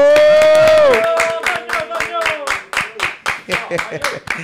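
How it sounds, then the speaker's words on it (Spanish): Sustained harmonic tone at the start, then a crowd clapping and cheering in a steady, loud burst of applause that fades and swells. "Quiero recibir con un fuerte aplauso"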